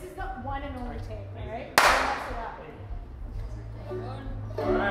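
A single sharp hand clap cracks out loudly in a studio before a music take, surrounded by people talking.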